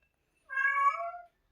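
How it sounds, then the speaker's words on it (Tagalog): A male cat gives one loud, drawn-out meow, close and clear against silence. "Ang ingay ng pusa kasi naglalandi."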